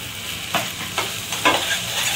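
Wet coconut masala paste being stirred into hot oil for a Malvani-style mackerel curry, with soft sizzling and several short scraping stir strokes, close and fairly quiet.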